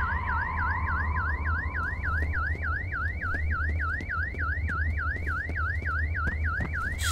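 Looping electronic alarm in the video game F.E.A.R. Extraction Point, a steady, loud warbling beep that rises and falls in rapid regular cycles, continuing without pause over a low background hum.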